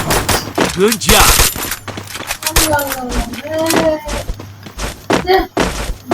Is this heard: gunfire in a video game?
yes